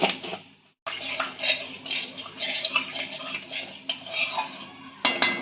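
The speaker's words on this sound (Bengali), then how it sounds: "আমি 1 চামচ গোটা জিরে দিয়ে দিলাম।" Whole cumin seeds tempering in hot oil in a pan while fish curry is made, giving steady sizzling crackle with metal scraping and clinks of stirring, broken by one brief silence.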